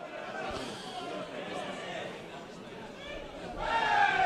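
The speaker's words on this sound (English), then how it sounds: "You can just hear the crowd starting to get into this one now" Passionate South Melbourne supporters at a Victorian NPL football match against Green Gully, a broad murmuring crowd swelling louder toward the end, heard under a commentator's talk.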